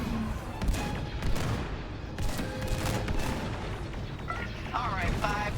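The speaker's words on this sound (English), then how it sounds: "Taking fire." Starfighter weapons fire in Star Wars: Squadrons, a steady dense barrage of blasts and rumbling impacts filling the whole stretch, with radio chatter and electronic cockpit tones layered over it.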